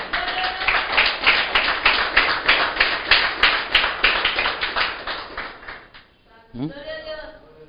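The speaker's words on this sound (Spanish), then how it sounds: "Si me arrebato, aplaudo al Señor" Steady rhythmic clapping during a Spanish-language church sermon, about two claps per second, loud and close, for roughly six seconds, then it stops and voices take over.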